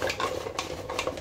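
Mussels being stirred slowly in a pot, a close continuous scraping and shuffling of shells against the metal, with a few sharper clinks.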